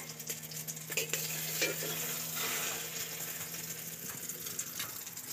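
An egg fries in a pan with a bright, steady close sizzle, joined by a few soft scrapes and clicks from a turner.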